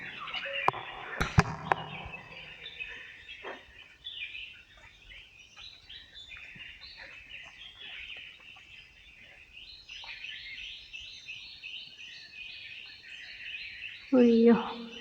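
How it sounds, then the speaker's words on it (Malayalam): Birds call and chirp around a temple grove in Kerala, scattered high twittering at moderate distance over a quiet background, with a couple of sharp knocks near the start. "ഇഷ്ടംപോലെ പക്ഷികൾ അവിടെ ഇവിടെയൊക്കെ പറഞ്ഞുകൊണ്ടൊക്കെ ഉണ്ട്."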